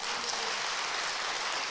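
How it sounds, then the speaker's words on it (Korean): Church audience applauding for the pastor's wife at a Korean church festival, a dense, steady wash of clapping throughout. "사모님께도 박수"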